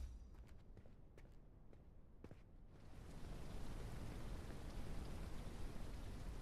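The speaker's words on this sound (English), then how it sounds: "Oh no, it's raining." Rain in the video game Noble Legacy starts with a few scattered taps and clicks, then swells into a steady, dense downpour hissing loudly on the ground.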